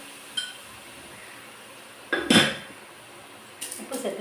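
Sautéing in oil in a pan while cooking rasam for lunch: a few short metallic clanks and scrapes of a utensil against the pan, separated by quiet gaps, with no voices.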